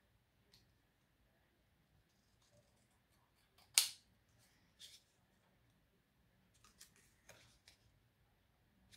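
Scissors cut paper for a folded card: one sharp, crisp snip stands out, followed by a few softer clips and rustles scattered over quiet moments.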